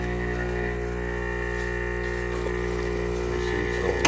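A faulty Philips 3200 Series EP3241 automatic espresso machine with LatteGo runs its pump, releasing water without grinding coffee, giving a steady loud mechanical hum and buzz with a few faint clicks near the end.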